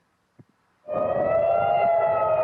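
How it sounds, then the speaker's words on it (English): An air raid siren in Israel starts up after a couple of faint knocks and then holds a loud, steady wailing tone. "Sirens wail across Israel with Iranian missiles inbound."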